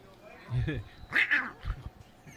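A person's voice mimics a strained, wailing cougar yowl in a few short bursts, rising and warbling, at a high school football game.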